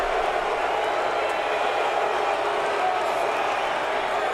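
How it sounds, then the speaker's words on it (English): Race fans at Pocono boo during a NASCAR Cup Series race, a loud, steady, broad crowd roar that fills the whole moment while a commentator talks over it. "The boos cascading down from the Pocono race fans today."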